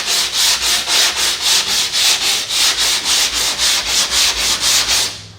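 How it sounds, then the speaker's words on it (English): Rhythmic hand sanding of a car body panel on a Scion tC with 80 grit sandpaper, steady back-and-forth strokes about twice per second, close and loud, with no talking. "I'm trying to sand off the highs, and later I will be filling the lows"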